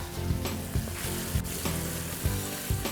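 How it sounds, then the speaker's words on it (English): Onions sautéing in a pan with salt, giving a loud, steady close sizzle with a faint low rumble and soft periodic knocks. "Now saute these onions until light golden brown"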